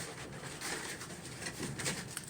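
Pigeons in a breeding loft in an attic, a steady soft murmur of cooing and faint wing patter from several birds fighting over nests, a low continuous hum throughout.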